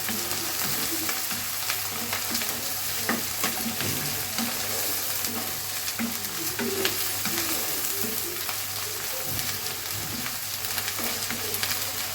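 Boiled, cleaned dried fish frying in a pan, a loud, dense, unbroken sizzle and crackle of hot oil lasting throughout, close up with no voices.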